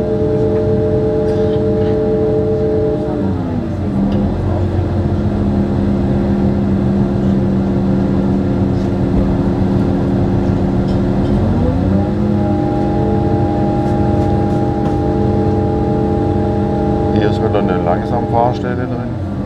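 Regional express train running from Fridingen to Sigmaringen, heard from inside a crowded carriage: steady motor hum with tones gliding up and down as the train changes speed, continuous rumble throughout.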